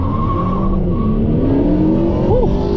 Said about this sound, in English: You have a Camaro ZL1 running Mickey Thompson drag radio